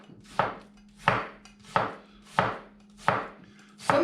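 A knife slices an onion into thin slices on a cutting board, six crisp evenly spaced chops, close and clear, with no talking.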